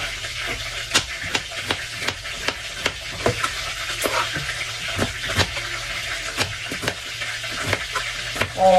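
Pancit noodles with vegetables frying in a pan, stirred with repeated sharp scraping strokes of a utensil at a regular rhythm over a constant sizzle, close up and with no talk.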